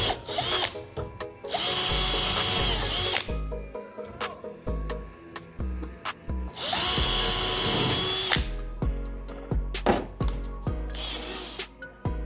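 A power drill whirs in repeated bursts while pre-drilling wood pieces, spinning up and winding down between short pauses, loud and close, with a few clicks in between.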